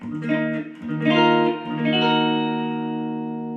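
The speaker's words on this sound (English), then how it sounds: "So I have set up my Yamaha THR5 with the clean channel, tone about 1 o'clock and gain about 11 o'clock, so it's a nice clean tone." Electric guitar played through a Yamaha THR5 amp on its clean channel, tone near one o'clock and gain near eleven, with a touch of amp reverb: a few clear strummed chords ring out, the last one sustaining and slowly fading.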